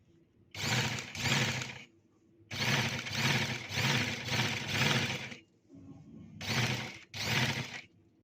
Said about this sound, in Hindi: और इस तरह से ये मुकम्मल सिलाई हो जाएगी